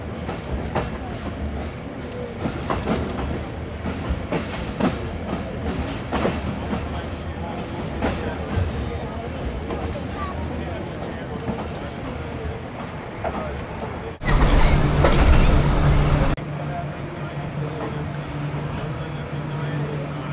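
Passenger train travelling in rain from Lahore to Sangla Hill, with continuous rolling clatter of wheels on rail joints and a brief loud rushing burst near the end, as if passing something close by; steady throughout.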